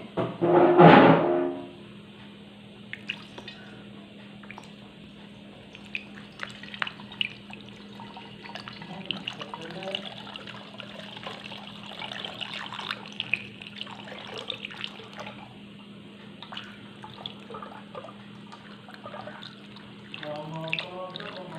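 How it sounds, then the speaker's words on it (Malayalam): Homemade grape wine poured into a bottle, a soft trickling and gurgling pour after a brief louder splash at the start, with faint drips and small knocks. "ഇത് നമുക്കിനി കുപ്പിയിലോട്ട് ഒഴിക്കാം"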